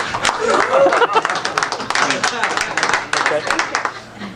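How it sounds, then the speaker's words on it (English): Audience applause at a real estate investors' meetup, a burst of many hands clapping that rises and falls for several seconds in an indoor room. "You can clap now."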